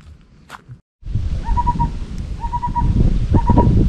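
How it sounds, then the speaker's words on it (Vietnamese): A bird calls in the mountains, repeating a clear whistled note three times at steady intervals over rustling, crackling ground noise from someone moving nearby. "Chim gì nè, kêu nha cả nhà."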